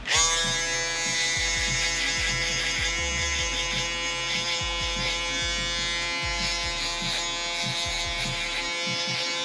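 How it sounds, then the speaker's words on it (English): Electric shaver buzzing steadily close up during a taper haircut on a boy at home in a garage, with a continuous high whine and a pulsing low rattle as it moves over skin. "then you want to hit them with the electric shaver."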